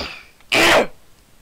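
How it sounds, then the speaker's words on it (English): A single short, harsh throat clear with a cough-like burst, close and fairly loud, standing alone against quiet background. "Jeez, I got a cough."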